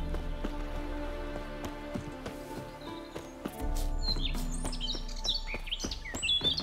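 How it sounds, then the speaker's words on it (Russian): Birds chirp and sing in the video game The Witcher, bright scattered calls rising over a steady bed of game music and ambience, growing busier toward the end. "Как птички поют."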